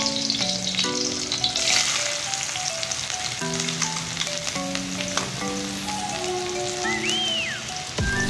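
Onions and green chillies sizzle in hot oil, a dense, continuous close crackle that stays steady and loud with no talking.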